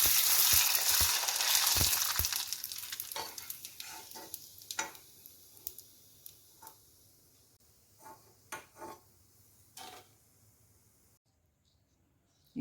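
Sun-dried rava coriander fryums deep-frying in sunflower oil, a loud bubbling sizzle at first that thins out into intermittent pops and stirring sounds before fading to near quiet.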